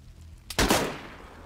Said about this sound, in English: Someone just shot him, who was that?